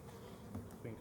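Carniolan honey bees buzz faintly during a package installation into a hive, a low, continuous hum of many wings with a few brief, closer flybys swelling over a soft background.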